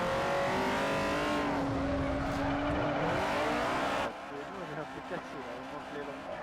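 A Honda Civic Type R EK9 drifts in Forza Motorsport 4, its engine whining loudly and rising and falling in pitch under a sustained tire squeal, then easing to a lower, rougher drone.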